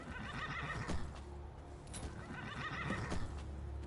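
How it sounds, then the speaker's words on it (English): A horse in a druid-build video game gives a loud, shrill whinny over the rhythmic clip-clop of its hooves, close up and alone with no talking. "Now I have my own horse."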